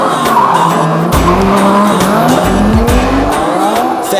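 A turbocharged four-seater Ford Falcon FG drifts at a motorsport festival drift challenge, its tires squealing loudly and continuously over a revving engine, with pitch sweeping as the car slides.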